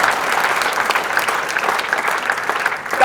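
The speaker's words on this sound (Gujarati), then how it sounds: "તાળીઓના ગડગડાટ." An audience bursts into sustained, loud applause during a religious discourse by Acharya Shri UdayVallabhSuriji. The dense clapping holds steady from start to finish, with no voices over it.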